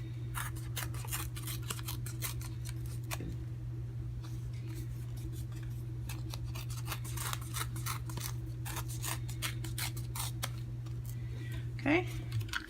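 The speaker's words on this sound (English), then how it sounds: "we're going to do the same thing with the Pacific Point. We're going to just tear an edge." Pacific Point cardstock being torn along its edge by hand, a series of short papery rips and crackles close up, set against a steady low hum, with a voice speaking now and then.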